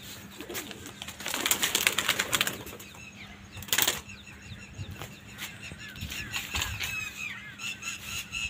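Pigeons kept in a loft coo and murmur close by, with two loud bursts of flapping wings as birds take off or land amid the soft cooing.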